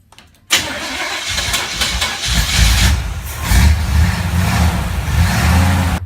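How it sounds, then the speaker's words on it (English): A car engine cranks over and catches, then settles into a steady, loud rumbling idle with a few revving swells. "There's going to be a bunch of car start sounds."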